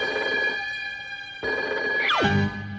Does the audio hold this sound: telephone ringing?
yes